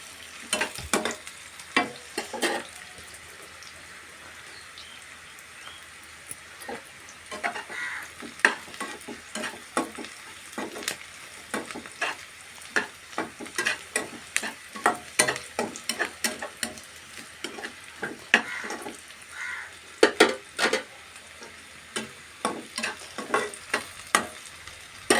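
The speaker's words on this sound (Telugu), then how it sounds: "కొంచెం గోల్డెన్ కలర్ వచ్చేదాకా ఫ్రై చేసుకుందాం" Food frying in a pan until golden while being stirred for an egg gravy curry, a low continuous sizzle broken by frequent sharp scraping and clacking strokes of a spoon against the pan, with no voices.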